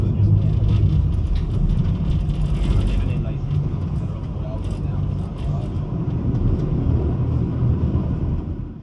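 Copenhagen floating bus boat on line 991 pulling away from Orientkaj, a steady loud low engine and water rumble with mechanical rattling throughout, a voice talking over it.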